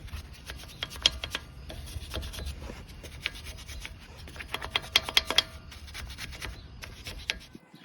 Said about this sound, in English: Now take a wire brush, clean up the hub mounting surface.